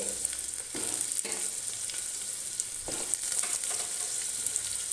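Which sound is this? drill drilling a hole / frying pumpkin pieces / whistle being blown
frying pumpkin pieces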